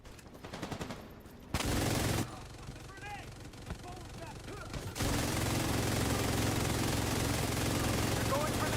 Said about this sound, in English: This is the LMG audio bug people were talking about.